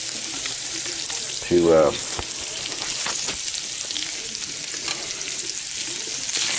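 Meat sizzles in butter in a frying pan, a steady moderate frying crackle with stirring scrapes throughout and someone briefly talking over it.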